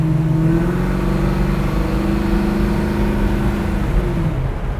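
A 1966 Chevy Nova SS custom hot rod engine pulls hard under acceleration, a loud, steady droning growl with rising tone from inside the car, with no talk over it.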